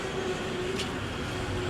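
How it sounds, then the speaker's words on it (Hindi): A tram runs along a street in Hong Kong, a steady rumbling rolling noise with a faint hum, heard close amid city background noise. "ये ट्राम, यहाँ पे ऐसी ट्राम चलती है हांगकांग में।"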